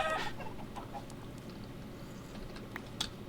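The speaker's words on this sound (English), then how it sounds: "Has that chicken just been under my house that entire time?" A chicken clucks in the video game Minecraft, with a few soft, scattered clucks over steady game ambience.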